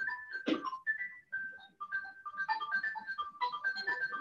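A mobile phone keeps ringing with a melodic ringtone after being switched off. Bright, repeating tonal notes play in a steady pattern throughout, fairly close and clear, with a brief burst of other noise near the start.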